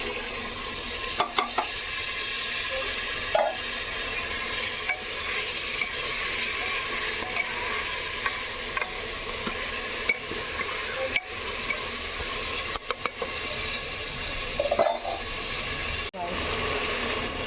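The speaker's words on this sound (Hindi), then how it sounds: "मसाला भी भून गया, छोले भी भून गए।" Steady sizzling and hissing of masala and chickpeas frying in a hot pan, with occasional scrapes and clinks of a spoon stirring.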